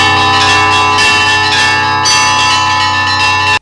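Church bells ring from the main bell tower of the Assumption Cathedral in Kirov during a bell-ringing festival, a loud, dense peal of many overlapping bells sounding continuously before cutting off.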